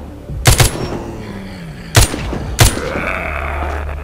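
Gunfire in the zombie shooter game The Walking Zombie 2: three sharp, loud shots spaced apart, the first a quick double, over a low game background.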